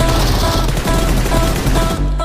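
Sustained automatic gunfire in the BGMI mobile video game, a dense, loud, continuous rattle of shots with no pauses.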